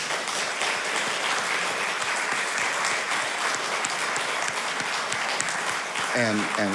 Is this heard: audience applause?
yes